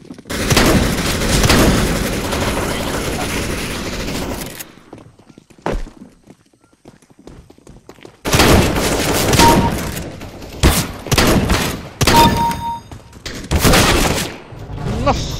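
Gunfire in Counter-Strike: Global Offensive, with dense loud bursts of shots and a quiet gap in the middle, then several sharp separate volleys near the end.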